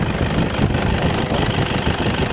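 A Toyota Innova engine idles with a steady, continuous rumble at a constant level, close and loud, with no talking over it.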